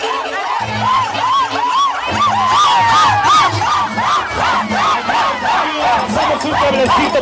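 Carnival crowd at the Carnaval de Coyolillo shouting, whooping and cheering in loud overlapping waves of voices throughout.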